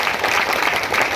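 Crowd applause at a Telugu public gathering, a dense steady wash of clapping from many hands throughout, fairly loud with no voices on top.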